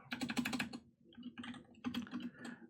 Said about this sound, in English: so I guess I'll just type it again